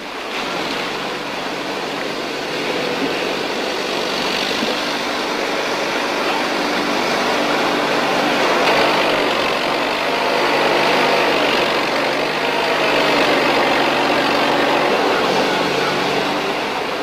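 An Argo amphibious ATV crossing a stream in a remote area gives a steady engine drone mixed with rushing, splashing water, continuous and fairly loud for the whole stretch.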